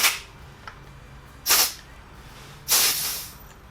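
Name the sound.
air pressure hissing out of a DVO Sapphire D1 suspension fork valve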